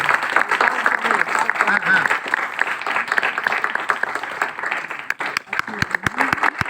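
Sustained applause from an audience at an event honouring people with disabilities, steady clapping filling most of the clip with a voice speaking over it and the clapping thinning into scattered claps near the end.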